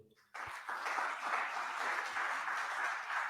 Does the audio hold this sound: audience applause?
yes